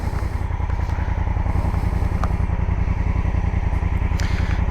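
A Honda Africa Twin motorcycle being ridden, its engine a steady, loud, close rumble with an even pulsing beat and a few faint clatters over the top.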